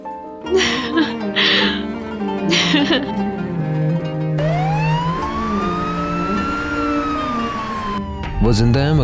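An ambulance siren wails in long rising and falling sweeps, loud and close, over a low rumble of traffic. Brief voice-like sounds come before and after it.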